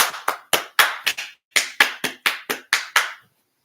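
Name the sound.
hand clapping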